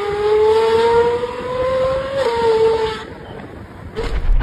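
A Ferrari 812 Superfast's naturally aspirated engine sings a loud, sustained high-pitched note that swells and dips, then drops away briefly before picking up again near the end.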